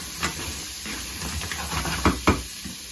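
Marlborough white wine reducing in a hot pan, giving a steady soft hiss and steam with a few faint pops and crackles, close and fairly quiet, with no talk.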